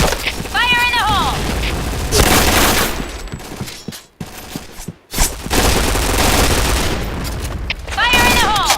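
Gunfire and a grenade blast in the tactical shooter Insurgency Sandstorm: loud, dense bursts of automatic fire fill most of the stretch, broken by brief drops to near-silence. A voice shouts a warning call at the start and again near the end.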